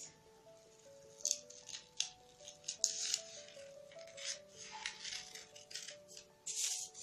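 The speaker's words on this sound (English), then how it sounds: "So I'm going to be cutting my front pattern." Scissors cut out a paper bodice pattern with a series of quiet snips and paper rustles at an uneven pace, faint, over soft background music.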